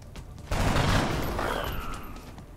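Burst of gunfire in the turn-based strategy video game XCOM: Enemy Within, a loud volley of shots that rings out and fades over a couple of seconds, with no voices over it.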